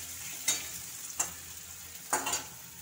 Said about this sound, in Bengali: এইভাবে সব কিছুকে ভেজে দিতে হবে